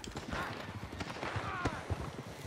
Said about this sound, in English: We're just going to get on the horse.